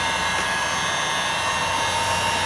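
Heat gun blowing hot air to warm butyl tape on a BMW X3 door panel during a water leak repair, a steady, even rushing whoosh with no breaks.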